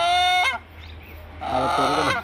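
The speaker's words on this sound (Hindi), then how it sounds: "ये देखिए ये है मुर्गा ये देखला मुर्गा" A rooster lets out two loud, harmonic clucking calls close by, separated by a short pause.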